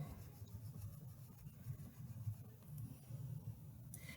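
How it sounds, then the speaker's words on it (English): Coloured pencil rubbed firmly into paper while filling in sunflower petals, a soft, continuous scratchy rasp close up and quiet, with no talking. "So I'm trying to stay in the lines and really rub that color in."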